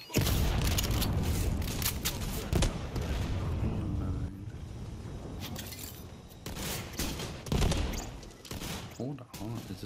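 Heavy shotgun gunfire in Borderlands 3, loud booming blasts in irregular clusters up close, mixed with other weapon fire and speech during a chaotic firefight.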